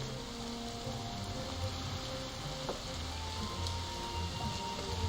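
Rain falls in a steady dense patter resembling sizzling, with scattered small clicks over about five seconds, fairly quiet and with no voices.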